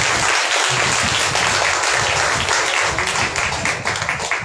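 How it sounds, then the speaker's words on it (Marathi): A church congregation claps together in thanks to God, a dense and continuous burst of applause filling the room that starts to thin and break apart near the end. "देवाला टाळ्या वाजवून धन्यवाद"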